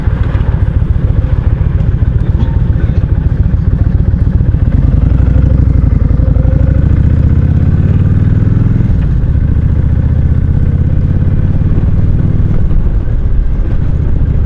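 A Kawasaki Vulcan 1600 Classic cruiser motorcycle on a test ride, its engine a loud, close, continuous rumble with wind noise, the pitch rising and falling as it accelerates and slows, no talking.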